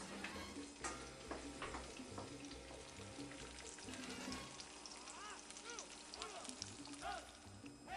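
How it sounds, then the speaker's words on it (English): An egg fries in hot grease while being basted, with a soft continuous sizzle and occasional clinks and scrapes of a utensil close by in a kitchen. "I'm just going to take a little bit of that grease that I have, and I'm just going to baste it right up onto the egg"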